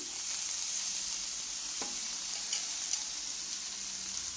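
Fenugreek leaves frying for a curry give a soft, steady sizzle throughout, fairly quiet, with one clear spoon tap near the middle and a couple of faint scrapes later, and no voices.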